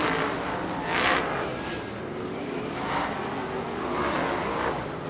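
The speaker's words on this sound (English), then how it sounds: "we're getting ready for CRA Sprintcars to restart. It's green. And they hammer the throttles" CRA sprint cars roar around Bakersfield Speedway in 1992, a dense, continuous wash of engine noise with a few swelling passes as the pack accelerates on a restart.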